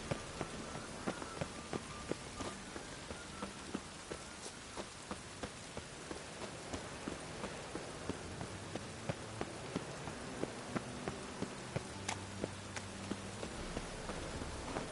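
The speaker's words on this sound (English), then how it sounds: "Lots of fuss over lots of rain." Steady rain in a video game patters continuously on a surface, with scattered sharper drops standing out against the soft wash.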